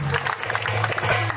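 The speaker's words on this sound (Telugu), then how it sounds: "గట్టిగా చప్పట్లు కొట్టాలి" A crowd claps briefly at a church feast auction after a winning bid, a short burst of scattered hand claps over a low background hum.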